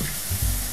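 Chicken steak sizzles loudly and steadily in a hot iron wok over low flame, a close, continuous frying hiss with faint stirring sounds and no talk.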